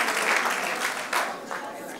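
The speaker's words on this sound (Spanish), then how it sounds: "Dale un aplauso al Señor." A church congregation claps together, a dense, steady round of applause filling the room with faint voices mixed in.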